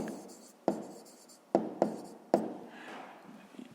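Pen strokes on paper while working a fifth-grade math exercise: a few sharp taps and scratchy strokes in uneven rhythm, close and fairly quiet, with no talking.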